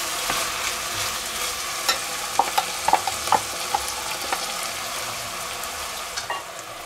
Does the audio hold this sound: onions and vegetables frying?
yes